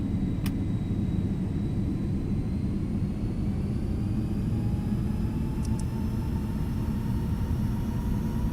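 Steady, loud roar of a FlightFactor Boeing 767-300F cargo jet's engines spooled to takeoff thrust in X-Plane 12 while taxiing, a continuous low rumble with a faint rising whine and no talk.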